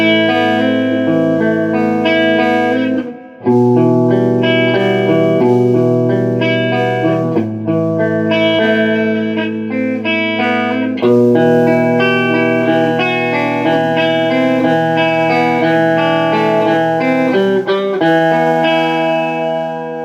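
Electric guitar chords played through an Orange CR120 amp with spring reverb, loud and sustained, with a brief break near three seconds and a wet, lingering tail on the ringing notes.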